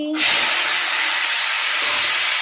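Potatoes dropped into hot oil tempered with five-spice (panch phoron) and dried red chillies burst into a loud, steady broadband sizzle right after a brief short tone, and the sizzle holds close and continuous throughout.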